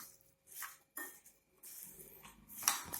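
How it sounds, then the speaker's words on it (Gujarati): Sev and chaat masala get mixed into potato chaat in a bowl, producing a few scattered clinks and scrapes of a spoon against the dish, separated by short quiet gaps. "સેવ અને ચાટ મસાલો. મિક્સ કરીશું"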